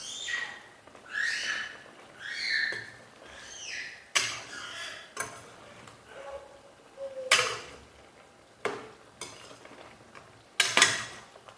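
Chicken with salt being stirred in a pan, a utensil scraping and clinking against the metal in repeated bursts, fairly close and alone with no talk.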